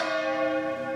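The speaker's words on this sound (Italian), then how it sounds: "Mezzogiorno in punto e lo scandisce la campana." A church bell tolls the noon hour overhead, its bright ringing tones sustained and sounding steadily through the whole second with no voices.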